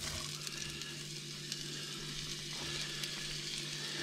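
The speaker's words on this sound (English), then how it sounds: "So now the lard's hot, so now I'm going to add my onions." Onions fry in hot lard in a Dutch oven for refried beans, giving a steady, close sizzle with a low background hum and no talking.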